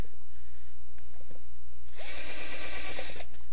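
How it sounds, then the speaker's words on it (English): A power drill bores a pilot hole into wood, spinning briefly at first, then running loud and steady for about a second and a half nearby, with no talking. "pilot hole drilling in there."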